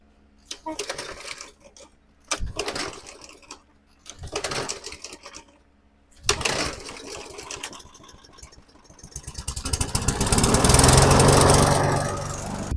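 A gas walk-behind lawn mower engine, being tuned up outdoors, cranks in several short bursts of pull-starting, then catches and runs with a steady, loud drone toward the end.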